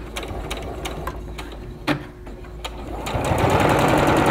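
A sewing machine stitches a pillowcase seam at quarter-inch allowance, first in a slow rhythmic series of needle thumps, then speeding into a louder continuous whir close by.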